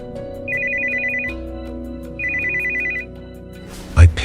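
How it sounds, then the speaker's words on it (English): A telephone ringing in two electronic trilling bursts over a steady background hum, followed by a short clunk as the ringing stops. "when the phone rang"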